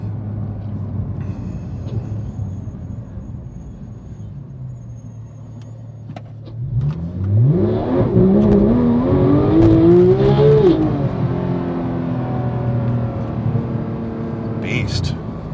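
A Porsche GT3 sports car engine idles low, then revs and accelerates hard with a rising, loud, close wail that holds for several seconds before easing back.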